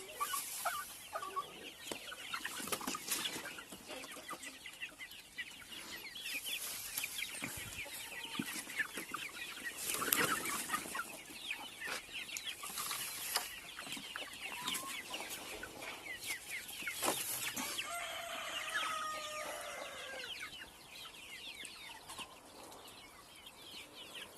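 Chickens cluck and newly hatched chicks peep continuously in a busy village coop, with occasional wing flaps and rustling; the birds sound moderately near and steady.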